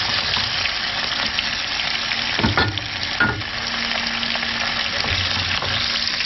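Steady, loud sizzling of tailor fish frying in a hot pan, with a couple of brief scraping clatters partway through.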